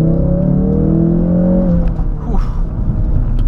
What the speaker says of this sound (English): Mostly you hear the induction noise, not a lot of exhaust note